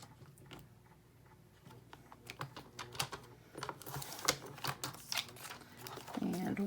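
Paper being trimmed for a chunky little photo brag book at a craft table, a run of close, crisp cutting clicks and scrapes that grow busier and louder toward the end, with no talk.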